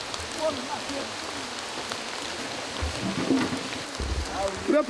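A short rain shower falls during the dry season at fish ponds, a steady patter of drops on water and surfaces, with voices talking faintly underneath.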